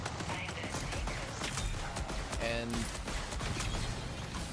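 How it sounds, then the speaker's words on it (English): Firefight in the Marathon shooter game, with rapid bursts of gunshots and equipment clicks ringing off the walls, dense and steady throughout and mixed with a brief electronic beep. "In gunfights, the gunshots and Yes. equipment sounds reverberate off the walls."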